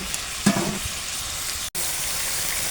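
Potatoes go into a pot of fried chicken pieces in cooked-down spice masala with oil. A steady, close sizzle carries throughout, with a brief sharp cut in the middle.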